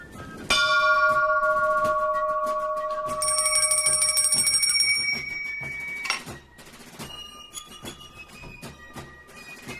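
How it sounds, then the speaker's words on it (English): A bell rings out at a boarding school academy, several loud struck tones with long ringing overtones over the first half, then fading into lighter dings and background activity. "the bell is important in helping students keep track of their busy schedule."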